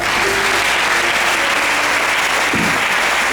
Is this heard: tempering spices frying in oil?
no